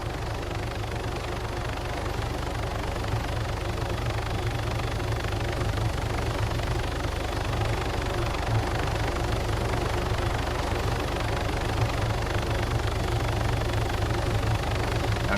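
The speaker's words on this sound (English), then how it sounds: "just switch the engine off now and just fall." Helicopter engine in the video game DayZ, a steady loud droning whir with constant rotor hum running unbroken throughout, with no talk.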